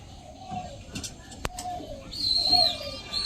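A pigeon coos softly in a few short calls, with a sharp click and faint chirps nearby as a person talks quietly alongside.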